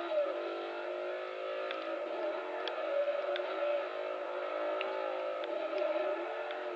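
A racing video game car's engine revs and whines steadily through a drift around a corner. The droning, slightly wavering tone holds for several seconds with faint tyre-screech-like ticks and no voices.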